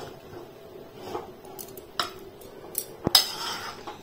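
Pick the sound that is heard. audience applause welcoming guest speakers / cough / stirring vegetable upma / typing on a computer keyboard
stirring vegetable upma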